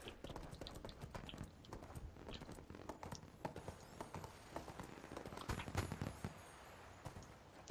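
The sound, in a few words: horse galloping hooves in video game ArcheAge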